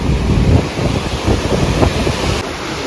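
Water gushes from the nine opened gates of Penakacherla Dam in Anantapur, making a loud, continuous roar with heavy wind buffeting on the microphone and no talk.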